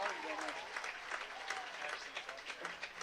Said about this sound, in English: Let's give a round of applause to our ROTC seniors.